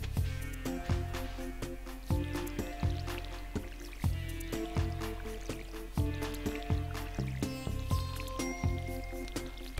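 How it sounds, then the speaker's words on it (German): Watering crops with a watering can in the Stardew Valley video game, repeated soft splashing pours recurring about every second over cheerful background game music. "Ich wollte gießen."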